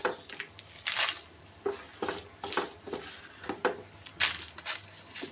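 Dry red chilli pieces roast in a pan on a low flame with a faint sizzle, broken by repeated scraping stirs of a spatula at a steady rhythm, close and moderately quiet.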